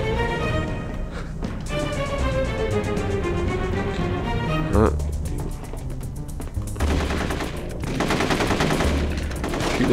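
Gunfire rattles in rapid bursts as barrels are shot in The Getaway video game, with near-continuous automatic fire layered over a dense game soundscape and a sharp thud about halfway through.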